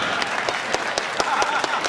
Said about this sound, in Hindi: समझ में आई हो तो बजाइए ताली।